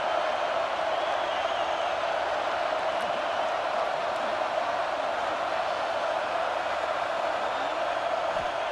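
A stadium crowd in a college football video game roars in a dense, continuous wash of noise, steady and loud throughout.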